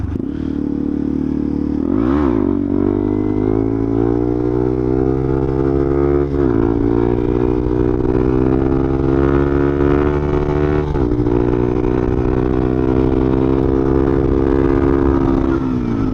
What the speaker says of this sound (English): I'm about to bust a fat wheelie right here.